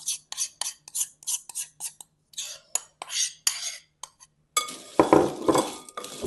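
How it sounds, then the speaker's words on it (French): A spoon stirs pretzels, crushed Oreo powder and melted white chocolate in a bowl, giving a quick run of rhythmic close scraping strokes, then a louder, busier clatter of mixing. "Et on vient mélanger."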